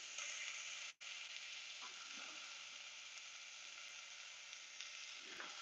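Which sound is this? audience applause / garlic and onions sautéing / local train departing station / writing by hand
garlic and onions sautéing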